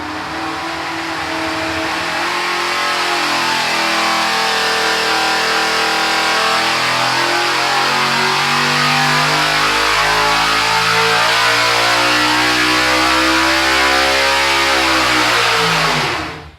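A sprint car's pushrod V8 engine revs up loud and close, climbing steadily in pitch and holding a sustained high-rpm roar for about sixteen seconds before cutting off abruptly.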